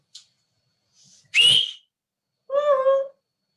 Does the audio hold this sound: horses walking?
no